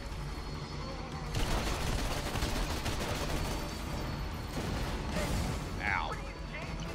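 Dense, continuous gunfire from a ricochet gun in Borderlands 2, a sustained loud barrage of rapid shots with crashing impacts and a few whistling ricochet-like sweeps near the end.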